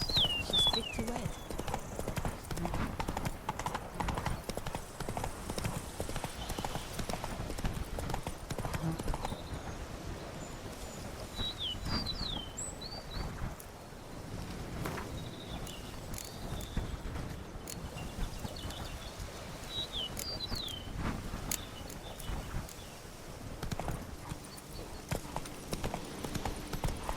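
Horse hooves clip-clop at a gallop in The Witcher 3: Blood and Wine, a steady quick rhythm under game dialogue, with faint bird calls and a brief whinny.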